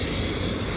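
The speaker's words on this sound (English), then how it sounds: "Was not expecting to see a helicopter on the friggin' trail" A helicopter over a mountain bike trail gives a loud, steady rotor and engine roar that fills the brief moment with no pause and no voices.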